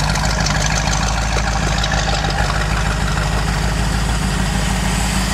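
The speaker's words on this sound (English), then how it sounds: "And don't those pipes sound nice?" A 1928 Ford Model A engine idles through its exhaust pipes with a steady, loud, low rumble and even throbbing pulses, heard alone and close for the full length.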